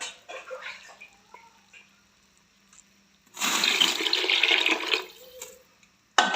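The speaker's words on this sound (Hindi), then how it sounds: "अब थोड़ा सा पानी और ऐड करती हूँ कि दाल अच्छी तरह नरम हो जाए" Water poured into a cooking pot of lentils (dal) in a home kitchen, a loud, steady rushing pour lasting about two seconds after quieter kitchen sounds.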